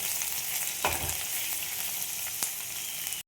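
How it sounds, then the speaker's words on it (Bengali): Chillies, onion and garlic sizzling steadily in hot oil in a pan, a continuous close crackle with a couple of brief stirring scrapes. "এবার আমি ভেজে নেব এগুলো।"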